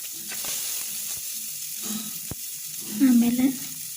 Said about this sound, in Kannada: ಹಾಗೆ ಚೆನ್ನಾಗಿ ಮಿಕ್ಸ್ ಮಾಡಿ ಸ್ವಲ್ಪ ಫ್ರೈ ಮಾಡಬೇಕಷ್ಟೆ.